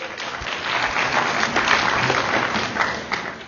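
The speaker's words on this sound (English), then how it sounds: "let's return it and give him a big round of applause." Applause from an audience at a Waco ISD gathering, a dense steady wash of many hands clapping that fills the whole stretch at moderate loudness, with no talk over it.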